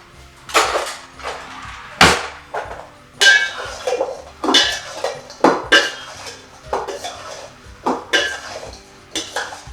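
Ingredients for an eggplant pizza being mixed in a bowl, with repeated loud clinks and scrapes of a utensil against the dish in an uneven rhythm, close up and with no talking.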